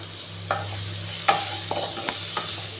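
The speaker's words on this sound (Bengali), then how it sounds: "এবার এটাকে ভালো করে নেড়ে চেড়ে নিচ্ছি, নেড়ে চেড়ে একটু কষিয়ে নিচ্ছি" Spices with chopped ginger, cumin powder, turmeric and salt are stirred and fried in a pan, giving a few distinct scrapes and clinks over a low sizzle and a steady hum.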